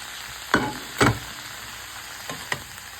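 Vegetables stir-fried with fried onions in a pan, heard as a few close, short scraping and sizzling bursts from quick tossing over a quiet hiss, with no talk.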